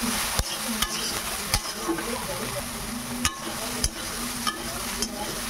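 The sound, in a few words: soybean chunks frying lightly in oil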